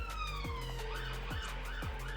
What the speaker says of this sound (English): Yep, that one was an ambulance.